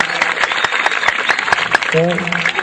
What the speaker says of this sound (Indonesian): Tepuk tangan teman.